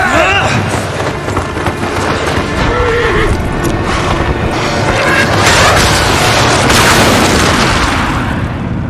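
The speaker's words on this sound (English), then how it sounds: "Yeah, artillery fire." Artillery fire booms in the video game Ghost of Tsushima, a dense, steady barrage of loud blasts and rumbling impacts filling the whole stretch, with a swell of louder bursts near the end.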